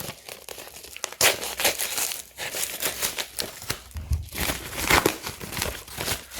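Paper crinkling and tearing as an envelope is opened, a close, busy rustle of crumpling and ripping that runs for several seconds with bursts of louder tearing and no voices.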